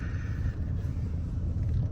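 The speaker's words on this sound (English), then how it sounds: "just show you how amazing this car sounds" A Mercedes-Benz C250 AMG Sport Coupe W204 engine drives at low speed with a steady, deep rumble, close and continuous, with no voices.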